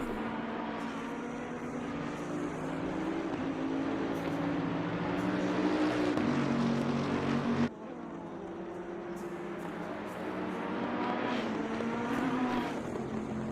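Race cars from a racing video game thunder down Bathurst's long straight, a loud, sustained engine drone with shifting harmonic pitch and a sudden gear-change drop midway, running side by side before one pulls back in line.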